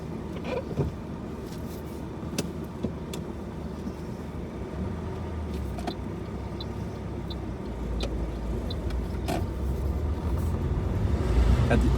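A car pulls away during a mock UK driving test, its engine a low, steady rumble from inside the cabin that builds gradually toward the end, with a few small clicks and rattles and no talking.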